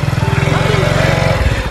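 A motorcycle engine runs close by with a steady pulsing putter that drops off near the end, while people talk over it.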